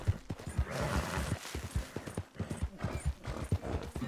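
Horse hooves clip-clop at a steady, rhythmic trot in the video game Red Dead Redemption 2 Online, the dull thuds clear and moderately close over a soft outdoor ambience.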